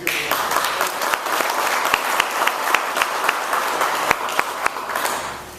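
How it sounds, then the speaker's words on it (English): Audience applause at an extension office ribbon-cutting ceremony, a steady wash of many hands clapping with sharper individual claps standing out, fairly close and continuous before easing off at the end. "Larry, I want to applaud you for that"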